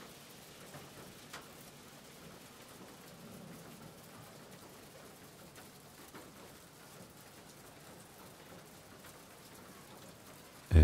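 Soft, steady rain patters on surfaces during a train journey, a quiet continuous hiss with occasional distinct drops and a sudden loud knock at the very end.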